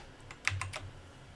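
Typing on a computer keyboard during an online bridge lesson: a short quick burst of four or five close, quiet key clicks in an otherwise still room.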